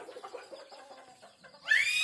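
Chickens cluck in quick, uneven bursts close by, then a louder, higher squawk rises at the end.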